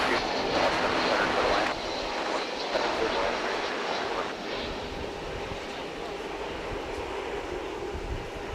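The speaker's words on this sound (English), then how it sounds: "It's American Airlines Flight 2655, an Airbus A321, making its appearance known from Portland, Oregon." An American Airlines Airbus A321 jet at DFW airport, inbound from Portland, Oregon, gives a loud, steady, broadband engine roar that holds throughout with a slight drop in level partway through.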